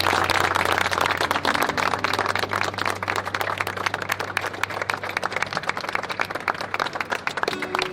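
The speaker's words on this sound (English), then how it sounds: "So everyone, give yourselves a round of applause." An aquascaping event audience claps together, a dense, loud, sustained wash of applause that stays steady for several seconds before thinning slightly toward the end.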